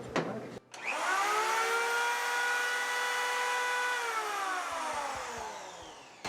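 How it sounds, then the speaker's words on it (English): A belt sander in a workshop runs on 12-volt solar inverter power, a steady loud motor whir with a descending tone that starts after a brief pause, holds for several seconds, then winds down alone. "What about the belt sander?"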